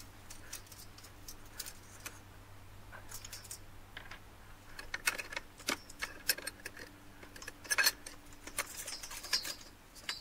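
A grasshopper clock mainspring is let down for cleaning: faint ticking and light metallic clicks over a steady low hum, picking up into sharper, louder clicks near the end, with no voices.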